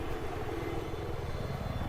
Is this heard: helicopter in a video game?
yes